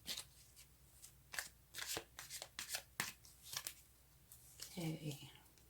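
Tarot cards being shuffled close by in quick, soft riffles and flicks, a series of brisk papery bursts, with someone speaking briefly near the end.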